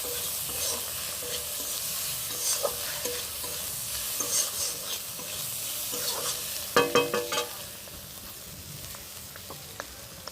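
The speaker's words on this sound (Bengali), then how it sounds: "দেখো ভাজা ভাজা করে নিচ্ছি।" Freshwater snails stir-fry in plenty of oil in a pan, a steady close sizzle broken by bursts of clattering spatula strokes, with no talking.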